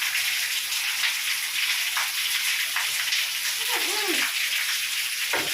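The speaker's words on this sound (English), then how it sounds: "Yep, it's raining hard." Steady heavy rain heard from indoors near a window, a continuous dense hiss with no letup, while a person speaks briefly partway through.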